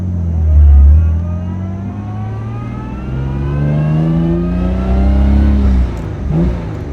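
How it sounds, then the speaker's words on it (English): A 1962 Jaguar E-Type 3.8 Series 1 Roadster engine revs and accelerates hard through rising gear pulls, a loud, deep exhaust note close by that climbs in pitch, drops, and climbs again. "Really pulls so well. Exhaust note. Great British exhaust note."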